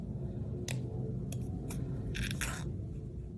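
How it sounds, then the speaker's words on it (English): Scissors snipping along the lines of a paper banner during fussy cutting for a card craft, a few short, faint crisp cuts at irregular intervals over a steady background hiss. "I just follow the lines on these and just fussy cut this banner"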